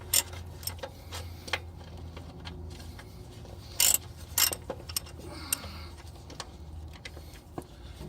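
Ratcheting clicks and ticks from loosening the pan bolts on a 4L60E automatic transmission, coming in irregular bursts. Several sharper metallic clacks stand out around the middle, all over a steady low background hum.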